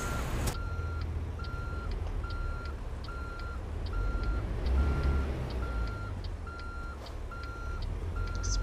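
A truck backs in within American Truck Simulator, its reversing alarm sounding a steady, evenly spaced series of beeps over a continuous engine drone, with no talking.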